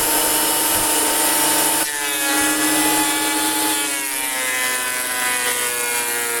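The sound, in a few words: rough timber being fed through a wood finishing machine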